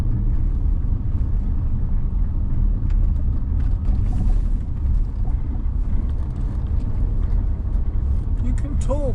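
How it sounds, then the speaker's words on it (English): A car crawls along the rutted, rocky track of the Seweweekspoort mountain pass, its steady engine rumble and road noise loud and continuous throughout, with a voice talking over it. "Driving to try and avoid all the ruts and"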